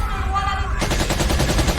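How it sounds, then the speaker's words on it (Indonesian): A burst of rapid gunfire, close and loud, with shots rattling in quick succession after a brief tonal sound at the start. "Tiba-tiba terdengar kembali suara tembakan"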